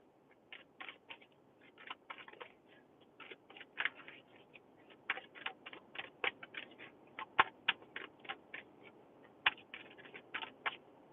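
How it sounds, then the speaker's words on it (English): Tarot cards are shuffled by hand, giving a quiet run of soft, crisp riffling flicks in irregular bursts over a near-silent background. "All right, one more shuffle."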